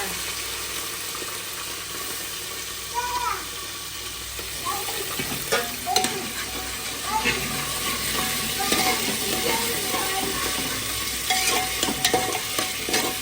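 Onions and potatoes frying in a pot with whole spices for Kutchi khari bhaat, a steady sizzle with repeated scraping stirs of a spoon against the pot, close and continuous.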